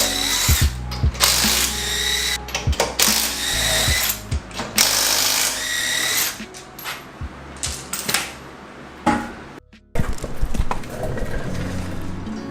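Wheels come off a Nissan 240SX: bursts of a pneumatic impact gun and ratcheting clicks alternate with clanks and short pauses, close and loud, no one speaking.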